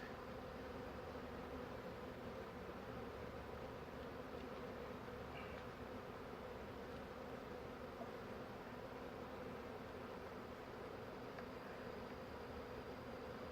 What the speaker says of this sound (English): A really obscene amount of bees.